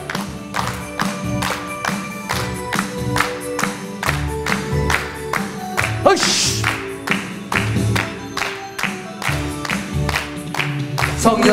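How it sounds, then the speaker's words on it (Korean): A church congregation claps in steady rhythmic beats along with a gospel song at Cheonan Dongsan Church, loud and sustained over music and singing voices. "박수 한번."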